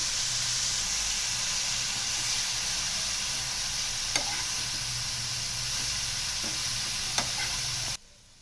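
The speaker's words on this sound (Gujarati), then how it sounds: "હળવા હાથે હલાવવું" Steamed patra sizzles softly in a pan while being gently stirred, a steady low frying hiss with a few light utensil taps, no talking. The sound cuts off abruptly near the end.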